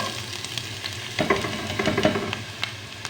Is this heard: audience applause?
no